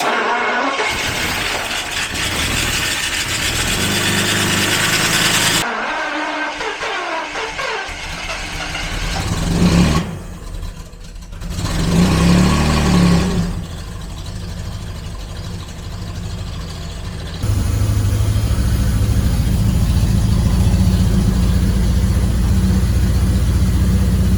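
A Daimler V12 engine, started after sitting for 40 years, runs steadily up close with a loud injector clatter, its note dipping briefly mid-run and then settling into a fuller, louder idle.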